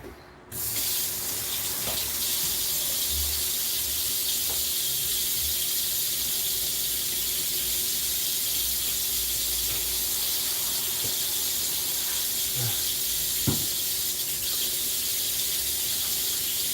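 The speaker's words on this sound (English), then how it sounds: "First thing we always do is wash our hands real well." A kitchen tap runs in a steady, loud, hissing stream for the whole stretch while hands are washed under it, with a few small clunks and splashes along the way.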